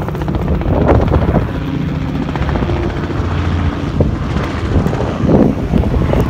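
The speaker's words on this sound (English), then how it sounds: "here is a chopper coming in" A loud helicopter drones with throbbing rotor chop and wind buffeting the microphone, steady and close, no one speaking.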